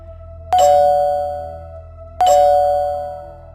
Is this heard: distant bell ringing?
yes